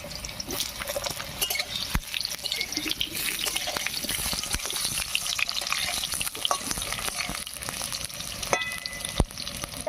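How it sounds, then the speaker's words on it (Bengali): Potatoes sizzle steadily in hot oil in a kadai, a dense and continuous crackle up close with occasional clinks and stirring scrapes, and no one speaking. "দেখো তেলটা গরম হয়ে গেছে আলুটা ছেড়ে দিচ্ছি"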